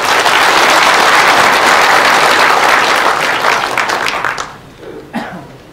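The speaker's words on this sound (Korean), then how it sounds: "우리 박수 한번 보내주시고" An indoor audience at a Korean lecture gives loud, sustained applause for attendees who travelled in from the provinces; the clapping holds steady, then thins and dies away, with a few last claps near the end.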